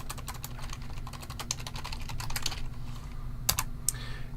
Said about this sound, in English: I'm all over the place with that typing